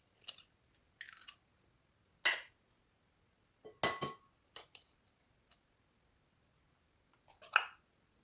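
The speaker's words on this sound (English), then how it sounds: "Crack 2 eggs into the bowl." Two eggs are cracked into a large mixing bowl for pancake batter, giving several sharp, brief taps and clinks of shell against the bowl, scattered and quiet in an otherwise silent room.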